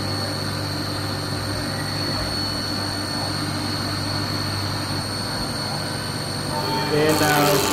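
A machine tool spindle hums steadily while cutting metal at 20 thou depth of cut, with a constant tonal whine and a louder, brighter grinding swell near the end.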